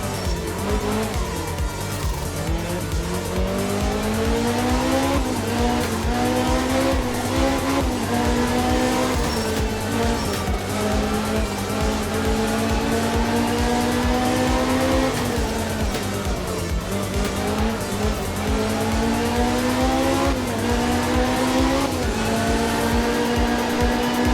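A rally car engine in the video game Art of Rally drones at high revs while tires squeal steadily in a long sideways drift, pitch rising and dipping, loud and constant.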